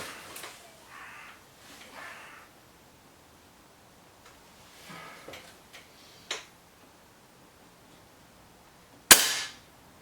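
A Webley Xocet air rifle fired at a target outdoors, a single sharp crack near the end, preceded by quiet handling clicks, faint rustles and a distant crow cawing.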